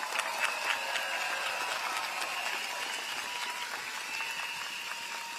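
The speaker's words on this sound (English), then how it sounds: "A warm round of applause." Rally audience at a People's Action Party constituency rally applauds steadily, a dense, even clatter of many hands that carries on without a break and without talk over it.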